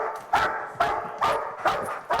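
A police dog searching a building for hiding teenagers barks four times in a steady rhythm, close and sharp, with quiet pauses between barks.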